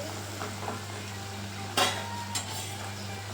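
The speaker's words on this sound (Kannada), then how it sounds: "ಇದು ಬಾಯ್ಲ್ ಆಗ್ತಾ ಇದೆ ಚೆನ್ನಾಗಿ" Herbal hair oil with amla, aloe vera and curry leaves boils on a low flame, a soft steady sizzle with a low hum beneath, broken by a few sharp clinks of a utensil against the pan.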